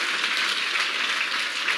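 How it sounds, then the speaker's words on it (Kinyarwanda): A church congregation applauds steadily, a dense wash of many hands clapping that stays even and moderately loud throughout, with no voices over it. "Twongera Imana amashyi ntacyo bitwaye."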